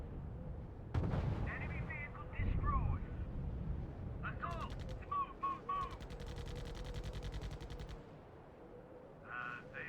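Heavy artillery fire in the strategy video game R.U.S.E on Utah Beach during D-Day, with booming blasts and rattling bursts of fire, mixed with radio-style voice chatter and beeping alerts.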